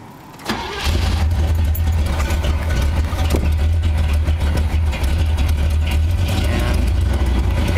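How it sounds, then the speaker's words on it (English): A Corvette engine fires up and settles into a loud, steady idle, its exhaust giving a deep, thunderous rumble that stays close and constant, with no talk. "And it sounds like thunder, which is the exhaust more than the engine"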